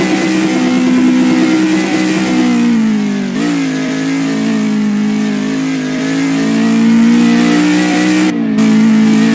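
A Lada car engine revving in a video game, a loud continuous tone that climbs and drops with gear changes and a short cut-off near the end, no voices over it.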